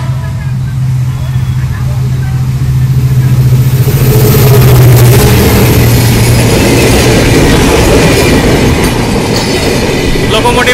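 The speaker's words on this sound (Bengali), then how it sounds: "নীলসাগর এক্সপ্রেস সঠিক সময়ে পার্বতীপুর ছেড়ে এসেছে," The Nilsagar Express, hauled by locomotive 6621, rumbles past the Haldibari rail gate crossing, a steady loud roll of wheels and wagons that swells and keeps going, with a horn-like tone early and people talking nearby.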